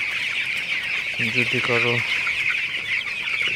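A large flock of broiler chickens clucks and chirps steadily on a farm. Midway through, a short low hum like a brief horn or engine drone rises briefly above the continuous bird chorus.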